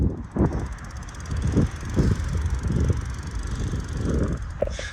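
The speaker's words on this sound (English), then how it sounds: "pretty good hill climbing ability on this Ride1Up carbon fiber Racer1" Ride1Up carbon fiber Racer1 e-bike climbing a hill outdoors: low rumbling bumps and mechanical rattles under a constant rush of wind, with a brief clank near the end.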